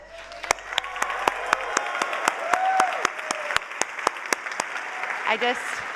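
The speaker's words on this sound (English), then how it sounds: "give the biggest round of applause you've given today to the team that put on this event" Applause from an audience, sparse and fairly quiet with individual claps standing out, some voices and murmuring mixed in.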